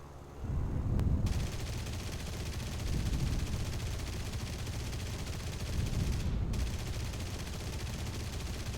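Aircraft machine guns fire in the War Thunder video game as a dense, sustained rattling roar that swells in several waves, with no talking.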